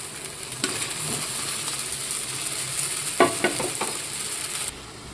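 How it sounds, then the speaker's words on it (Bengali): Paneer sizzles and is stirred in a butter masala, a continuous close frying hiss broken by a few sharp scraping stirs in the middle, then the sizzle drops away just before the end. "পনিরটাকে দিয়ে আমি আরও 2-3 মিনিট কষে নিলাম"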